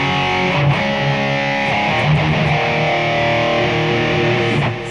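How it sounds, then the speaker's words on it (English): Electric guitar played through a BOSS Metal Zone distortion pedal into a clean Fender Twin Reverb amp, heavily saturated chords ringing loud and sustained with a few rhythmic accents, alone without talk. "And you just add a distortion pedal."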